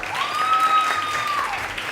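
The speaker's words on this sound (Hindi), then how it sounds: "बहुत सारी तालियां सरवत आपा के लिए।" Steady applause rolls from a studio audience at a televised Ramazan iftar programme, a close, full round of clapping with a thin tonal whistle riding above it briefly.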